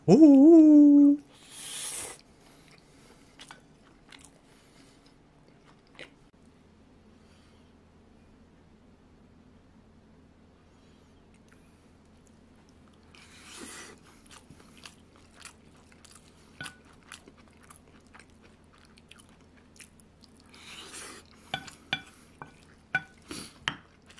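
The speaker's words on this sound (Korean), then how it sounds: "먹어보겠습니다" Someone eats scrambled tomato and egg seasoned with sesame oil and toasted sesame seeds. Quiet, close bites and chewing come in two short bursts separated by long stretches of near silence.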